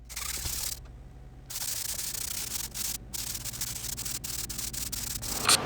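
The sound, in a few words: sanding maple bench legs with sandpaper and steel wool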